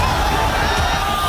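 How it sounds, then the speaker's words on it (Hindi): A large crowd roars and cheers at Amit Shah's Bengal election rally, a dense, continuous wash of voices and whoops held at a steady loud level, with no single speaker standing out. "ये भीड़ की पुकार"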